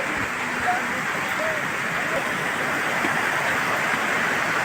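Rushing water at the Shiv Jhatta waterfall in Dharan, Nepal, roars as a steady, dense broadband wash throughout, loud and continuous with no breaks.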